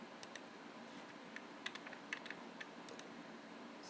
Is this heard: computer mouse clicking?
yes